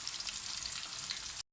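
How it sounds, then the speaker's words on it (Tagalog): Food frying in a pan, a steady bright hiss and crackle of sizzling oil that holds constant for about a second and a half, then cuts off abruptly. "Prito naman tayo guys."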